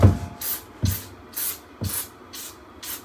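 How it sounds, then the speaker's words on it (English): Chemical cleaner sprayed onto an air conditioner unit comes out in five short, sharp hissing bursts at an even pace, close and clear with no talking. "we're gonna spray some chemical cleaner on it"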